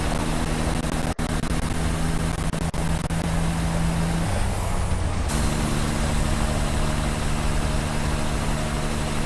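Trucks drive in the video game Satisfactory, a loud continuous engine drone with steady low hum tones that shift pitch midway, plus a few sharp clicks, heard alone without talk.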